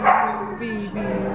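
A dog yelps and whimpers close by in a short, loud burst, with people chatting over it during a visit to a rescue shelter.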